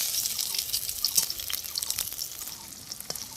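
Pumpkin flower fritters fry in hot oil in a wok, giving a steady, fairly faint hiss dotted with small crackles and pops, with no talk over it.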